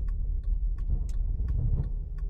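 A car braking on an icy slope in Flin Flon, Manitoba, with a steady, close low engine rumble and a light ticking that repeats through the whole clip; no one speaks.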